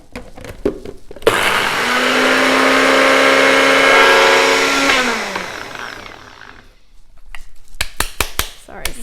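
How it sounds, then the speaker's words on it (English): A kitchen blender whirs at full speed for a few seconds while blending a green bean salad, a loud steady motor whine that rises, holds, then winds down. Clattering handling noises come before and after it. "I'm just going to blend it and use my blender."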